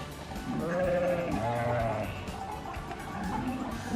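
Four-month-old lambs in a flock on a farm, one still nursing from its mother, let out a few close wavering bleats. Calls overlap in the first two seconds, then fainter ones follow over steady background murmur.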